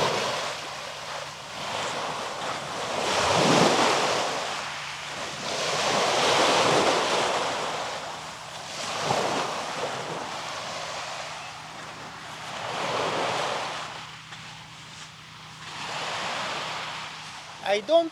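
Gentle sea waves wash onto a calm beach at Kalyves, Crete, surging and receding in slow regular swells every few seconds, with wind buffeting the microphone throughout and no voices.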